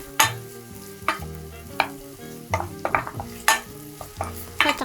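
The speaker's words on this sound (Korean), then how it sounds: "버터가 녹은 다음에 대파를 넣고 약불에서 대파 향이 올라올 때까지 볶아주세요" Sliced green onion sautés over low heat in melted butter, with repeated sharp clanks and scrapes of a utensil against the pan over a soft, low sizzle and no speech.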